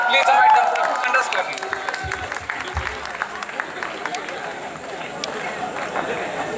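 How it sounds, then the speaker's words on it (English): An audience applauding students' dance performance at an inauguration event, a steady patter of many hands clapping from a crowd, with murmuring voices mixed in. "So please clap, please invite them for a tremendous"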